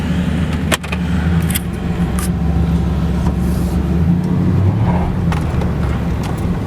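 A 2004-2015 Nissan Titan pickup runs with a loud, steady low engine rumble close by and a faint jingle of keys near the start.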